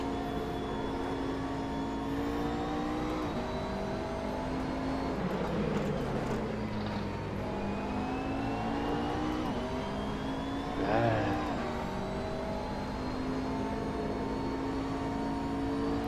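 Race car in a video game at the Spa circuit sliding off the track and spinning in the dirt, its steady engine drone shifting pitch through the spin, no talking.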